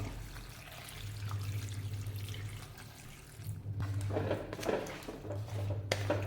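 Water runs and splashes steadily into a cooking pot of raw banana curry, with a low hum underneath and the flow growing louder toward the end.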